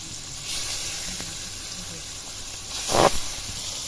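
Pangasius fish fries in oil, hissing and sizzling steadily in a pan, with a brief louder crackle near the end.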